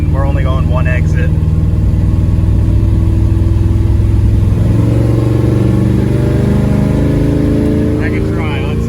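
A car driving stuck in first gear, its engine holding a loud, steady high-revving drone under the cabin noise, while someone talks briefly at the start and end.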